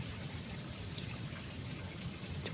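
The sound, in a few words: water poured to wet soil for plant air layering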